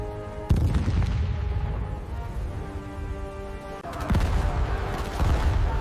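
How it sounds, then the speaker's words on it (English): Gunfire and explosions ring out on the D-Day beach in 1944, with sharp blasts punching through a dense, continuous roar of battle; low booms and rattling shots overlap beneath a droning, tonal background, loud and unbroken throughout. "Explosions shook the beach as men fell all around them."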